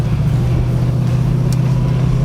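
Steady, loud low rumble of a 1966 Ford Mustang's American V8 idling close by, an even burbling drone that holds through the whole moment with no revving and no voices.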